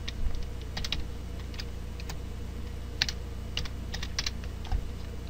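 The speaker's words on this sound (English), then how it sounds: "Type in our email." Rapid, uneven clicking of fingers typing an email address on a computer keyboard, close and fairly quiet over a steady low background hum.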